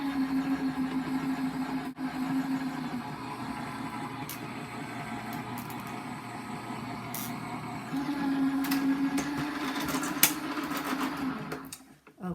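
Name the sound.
die-cutting machine running a cardstock sandwich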